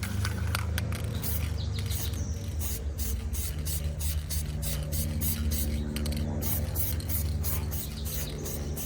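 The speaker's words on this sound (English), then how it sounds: "this spray pattern is working great" Spray can paint hissing in short repeated bursts while refinishing the hood of a 3rd generation Toyota 4Runner, with a steady low hum underneath and no talking.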